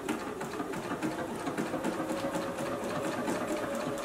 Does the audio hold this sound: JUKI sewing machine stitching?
yes